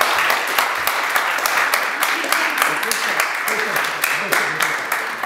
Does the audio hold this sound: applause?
yes